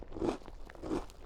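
Two crisp crunches sound close up, about a second apart, as halves of an IKEA Christmas heart biscuit are bitten.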